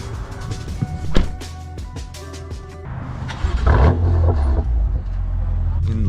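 A BMW M4 F82 on EMD lowering springs drives along, its engine and road noise a steady low rumble that swells as it accelerates, with cabin thumps and brief voices underneath.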